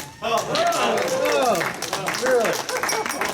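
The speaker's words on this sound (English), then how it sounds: "And the crowd goes wild." Applause and cheering at a Christmas awards party, lively clapping from a room crowd mixed with whoops and voices talking over it.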